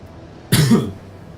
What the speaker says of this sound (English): Sorry about my coughing.